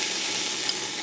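Shallot frying in extra virgin olive oil, a steady close sizzle with a fine, even crackle throughout a short moment.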